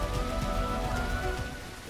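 Steady rain falls over a forest setting, a dense close patter of drops on surfaces continuing evenly with no voices.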